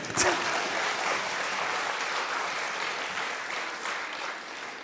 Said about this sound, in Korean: 박수를 치시려면 제대로 이렇게